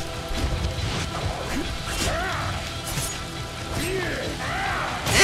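Steady rain hisses throughout the game X-Men Origins: Wolverine, mixed with thuds, crashes and scattered fighting impact sounds, while a voice speaks intermittently over it.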